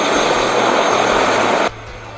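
Airplane at Lukla Airport in Nepal, a loud steady roar of engine and propeller noise that drops abruptly to a lower hum near the end.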